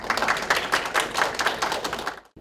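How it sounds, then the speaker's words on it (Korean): Audience applause rising to welcome a speaker at a Korean future-generation forum on bio-industry innovation: a dense, steady burst of many hands clapping that runs about two seconds, then stops abruptly. "우리 따뜻한 박수로."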